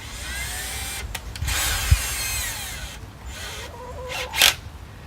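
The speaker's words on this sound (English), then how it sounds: "I'm going to drill the holes to start it." A power drill with a 7/32-inch bit bores holes into wooden boards for a DIY chicken coop, whining in short bursts that rise and fall in pitch, close up, with brief pauses.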